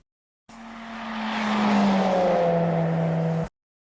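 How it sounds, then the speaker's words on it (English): A car passes at high speed, its engine whine rising to a loud peak and then sliding lower in pitch as it recedes, a single Doppler pass lasting about three seconds between silences. "after the car passes us, the car sounds lower in pitch as it moves away"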